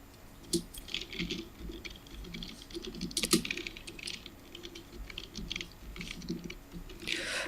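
Typing on a computer keyboard during an HTML tutorial: quiet, irregular clicks and taps in short bursts with a few sharper keystrokes, fairly close but faint.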